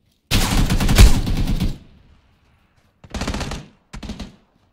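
Bursts of rapid automatic gunfire in a shooter video game, a long loud volley followed by two shorter bursts, close and dominant with no talking.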